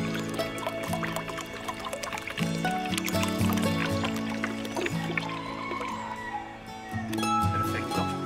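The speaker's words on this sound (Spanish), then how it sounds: "Ahora lo que vamos a hacer esto es vertir 10 litros de agua." Water poured in to dilute about a litre of nitrogen-based plant fertilizer with ten litres, a steady close splashing and gurgling that continues throughout with some clattering and background noise, no speech.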